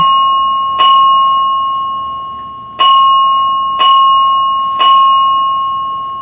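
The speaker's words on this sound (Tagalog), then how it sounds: "Ayan na ulit yung bell" A doorbell chimes four times in a quiet home, each clear ring decaying slowly before the next strikes at uneven intervals.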